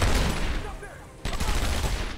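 Rapid bursts of gunfire ring out in the Batman Arkham Asylum video game, dense and loud, fading briefly before a fresh volley erupts.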